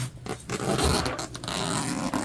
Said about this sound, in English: is unzip our zipper